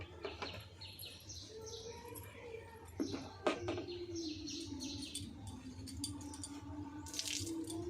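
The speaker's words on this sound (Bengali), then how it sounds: "সকালবেলায় যখনই ছাদে যাই আমি চারিদিকে পাখিগুলো বেশ কি সুন্দর ডাকে" Birds call around a rooftop in the morning, with faint scattered chirps and tweets over a quiet background and a brief soft rustle.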